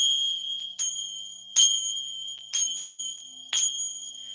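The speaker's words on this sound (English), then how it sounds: "I'm going to use my bell to clear out this energy." A small hand bell is rung four times at even intervals, each strike bright and ringing clearly before fading, close and alone in a quiet room.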